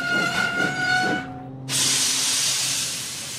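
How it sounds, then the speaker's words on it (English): Steam locomotive brakes release a loud hiss, broad rushing steam after a brief gap, following chuffing with a whistle-like tone, close by. "Thomas's brakes sound like this."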